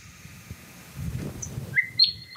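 Sharp, high chirps ring out over a steady low rumble, a few bright bird notes arriving near the end.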